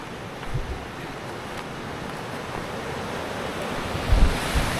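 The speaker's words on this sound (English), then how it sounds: "I love the sound of the rivers." Steady broadband rush of flowing river water at a campsite, constant and fairly loud throughout with low rumbling swells and occasional wind buffeting.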